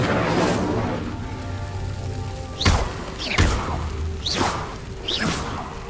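A fire spell cast in a Hogwarts wizarding video game, heard as several sharp whooshing bursts with thudding impacts. They come in an uneven series over a steady background of game noise, and no one speaks.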